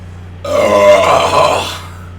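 A long, loud burp rolls out for over a second, rising and falling in a rumbling drawn-out belch, set against a steady low hum.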